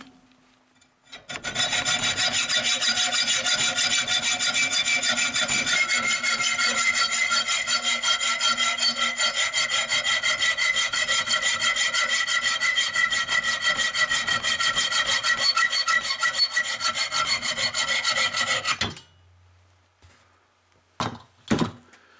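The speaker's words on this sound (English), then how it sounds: "I'm just going to use a hacksaw to cut off this threaded rod so it's the length that I need" Hacksaw cutting a threaded rod for a Chevy Bolt spare tire setup, a close, steady back-and-forth rasping that runs continuously for about seventeen seconds, then stops, followed by a few light knocks.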